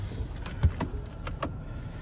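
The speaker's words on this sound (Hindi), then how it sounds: "अच्छा गाड़ी ऑन कर लेते पहले" A car being started up, with a few short clicks and mechanical thumps and a soft electric whir, quiet and close inside the vehicle.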